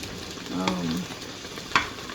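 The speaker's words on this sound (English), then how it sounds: "Just going to stir it around" Chicken and green peas frying in a pan, a steady close sizzle with a spoon scraping and stirring through it, one sharper clink of utensil on the pan near the end.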